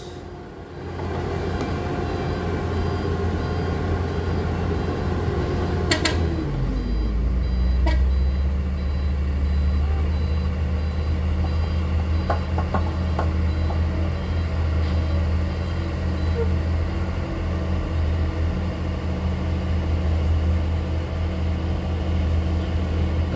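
Hino and Fuso trucks, one a Fuso HD 220 PS, climbing a muddy, sticky dirt hill: a deep diesel engine roar builds and holds loud and steady, with a reversing beep and a brief clatter early on.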